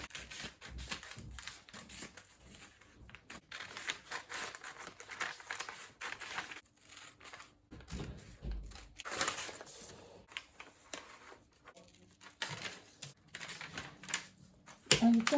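Scissors cutting fabric for the back of a basque corset top with a yoke, giving scattered close snips and crinkling fabric sounds, moderately quiet with little talk.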